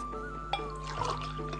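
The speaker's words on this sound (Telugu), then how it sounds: "3 గ్లాసులు నీళ్లు పోసారు." Water from a glass is poured into rice in a home kitchen, a soft trickling and splashing stream with a few small bursts over a steady low hum.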